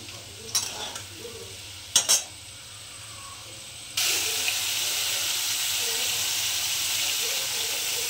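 Potatoes frying in a pan with salt added, turning crisp and reddish-brown, give a steady loud sizzle that swells halfway through after a couple of short clatters of stirring.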